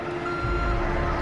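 A truck in the Far Cry 5 video game sounds its reversing alarm, a loud, steady electronic beep tone over a deep engine rumble, close and continuous.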